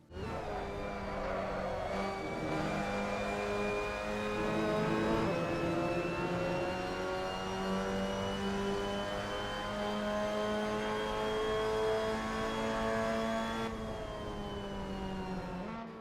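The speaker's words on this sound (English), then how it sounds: "So that was a lap around Okayama with the Mazda MX-5 Cup" A Mazda MX-5 Cup race car laps the Okayama circuit in the Assetto Corsa racing game, its engine droning steadily with rising and falling revs through gear changes, loud and close throughout with no talk.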